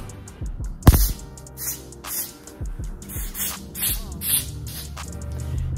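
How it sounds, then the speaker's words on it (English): Several short bursts of Ebin New York Wonder Lace Extreme Firm Spray, a hair adhesive sprayed onto a wig cap, hiss at irregular intervals, with a few soft handling sounds between them. "this Ebin New York Wonder Lace Extreme Firm Spray"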